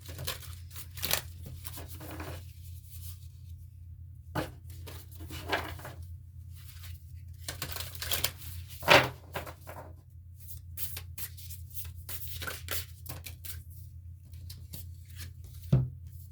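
Sacred Forest Oracle cards being shuffled and handled, a run of soft papery riffles, flicks and crinkly rustles coming in irregular bursts over a low steady hum, close and without talk.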